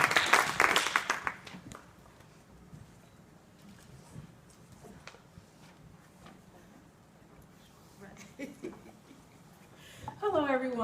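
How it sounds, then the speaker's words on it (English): An audience applauds after an award winner is introduced at a university social work student of the year ceremony, a burst of clapping at the start that fades into quiet murmuring room noise before a voice begins speaking. "A part of me feel that the claps were exciting because we're the last student"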